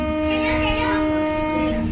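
An electric miniature model train runs in a railway museum, a steady humming drone with a faint tonal whine and no clear breaks, close and continuous.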